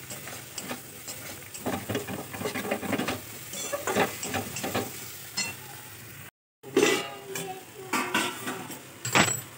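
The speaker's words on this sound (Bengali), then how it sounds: "তো এবার আমি ভালো করে 5 মিনিট কষিয়ে নেবো সোয়াবিনটা।" Small soybean chunks stir-fried in a pan, a close, soft sizzle with irregular spatula scrapes and light clinks, broken by a brief silent gap before the stirring resumes.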